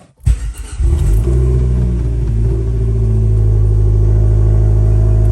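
A 2013 Dodge Dart 1.4-liter turbo engine cranks briefly and catches, then settles into a loud, steady idle rumble close by.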